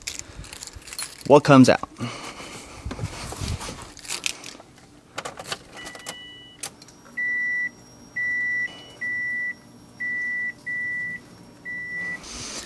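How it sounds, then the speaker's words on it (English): A car's ignition switched on to run the fuel pump of a costly engine, heard as a steady series of six evenly spaced electronic beeps after keys jangle near the start, with brief talk early on. "Let's turn on the ignition just so the fuel pump can run"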